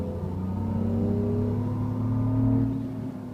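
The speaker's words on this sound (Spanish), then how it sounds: "ahora suena el coche como un Renault Clio V6" A simulated Renault Clio V6 engine sound played from a Renault Clio TCe hums and revs steadily, rising slightly in pitch, a continuous mid-range motor drone heard up close.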